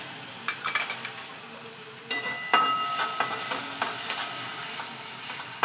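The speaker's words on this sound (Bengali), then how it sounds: "একটু জল দিয়ে দিলাম।" Spice masala with green chillies sizzles in a pan as a splash of water hits it, a steady hiss with occasional spoon scrapes and clinks against the pan.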